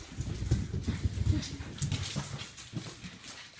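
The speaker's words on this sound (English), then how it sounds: "Such a cute dog." A dog close by makes soft whimpering and snuffling sounds in short irregular bursts.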